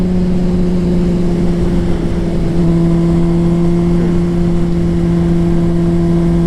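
A 2009 Honda CBR 600RR sport bike engine on a test ride holds a loud, steady, high-pitched drone with wind rush and an unbroken, even tone.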